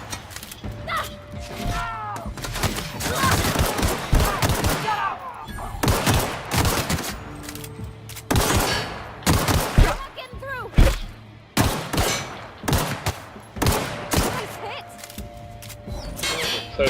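Gunfire in the video game The Outer Worlds, repeated loud bursts of shots and rapid volleys in uneven clusters, close and punchy, with talking woven between the bursts.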